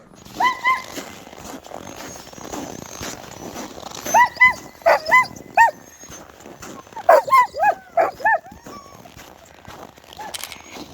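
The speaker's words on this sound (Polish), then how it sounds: "Jest ich tutaj 11 piesków." Eleven sled dogs bark in repeated bursts, clustered yips and barks near and loud, with a pause between volleys and faint talk underneath.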